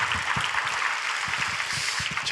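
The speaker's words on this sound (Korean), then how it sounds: "우리 찬양 받으신 주님께 다시 한번 더 우리 박수로 우리 영광 돌리도록 하겠습니다." A church congregation applauds during a Korean-language Friday Holy Spirit worship service, a steady, dense wash of clapping that runs the whole time without pause.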